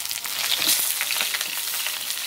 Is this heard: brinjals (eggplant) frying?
yes